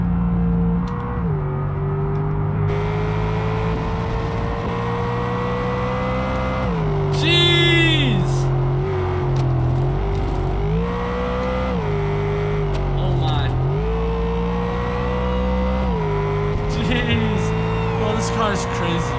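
A BMW M5 CS engine in the BeamNG.Drive driving game roars loudly and continuously, with revs climbing and dropping through gear shifts and brief tire squeals, while a person talks over it.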